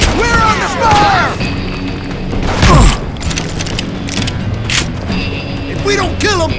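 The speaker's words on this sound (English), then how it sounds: "Who's shooting? We're under fire!" Gunfire and heavy booms in the Call of Juarez Gunslinger video game, a camp shootout outside Parachute, Colorado, with sharp shots, mechanical clatter and impacts across a busy mix as voices shout over the action.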